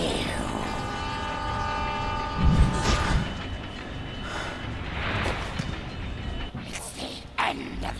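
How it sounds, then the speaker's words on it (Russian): A train rushes past in the video game Spider-Man: Shattered Dimensions, a loud broadband roar with rumbling swells and a brief heavy thump partway through, mixed with game action noise. "Кажется, тебе надо успеть на поезд."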